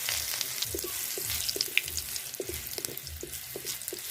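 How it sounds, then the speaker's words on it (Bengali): Hot oil sizzles and crackles steadily with small pops as nigella seeds and crushed garlic fry, with occasional light clinks in the background. "ফোড়নে দিয়ে দেবো কালো জিরে, দিয়ে দেবো ফেটে রাখা রসুন"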